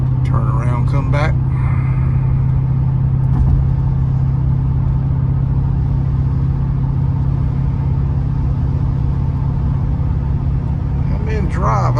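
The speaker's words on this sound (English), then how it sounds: "The engine sounds like he's doing more than that." A 1980 Porsche 928's engine drones steadily from inside the car while it is driven in drive, giving a constant low hum with road rumble. Someone talks briefly over it.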